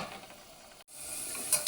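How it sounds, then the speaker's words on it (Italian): Garlic sizzles while frying in a pan, a soft steady crackle with a momentary dip and faint clinks near the end, fairly quiet and without voices. "Mentre l'aglio soffrigge"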